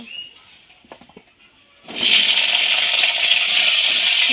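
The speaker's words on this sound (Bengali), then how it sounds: "হালকা ভেজে নেব" Washed, salted Malabar spinach and cut potato hit hot mustard oil in a pan, a few quiet clinks giving way abruptly to a loud, steady hissing sizzle that continues to the end.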